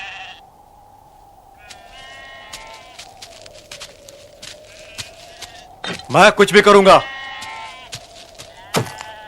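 Sheep bleating in a pastoral scene, a loud burst of several bleats standing out briefly amid ongoing talk and quieter background bleats.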